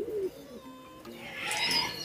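Racing pigeons kept as breeders in a loft give a soft, short low coo near the start, followed by quieter rustling and a brief breathy burst. The sound is fairly faint and close.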